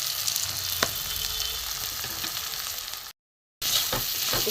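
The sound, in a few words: spices frying in a pan for egg tadka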